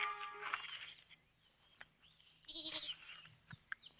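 A goat bleats in a couple of wavering, nasal calls, one near the start and a louder one midway, with quiet gaps and faint background noise between them.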